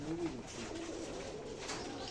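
Giribaz pigeons in a Rajshahi loft give a few soft, low coos against a steady background hum, close by and moderately quiet, with no talking.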